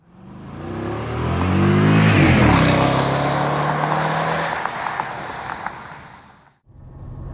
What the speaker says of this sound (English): Straight line acceleration is absolutely impeccable in this car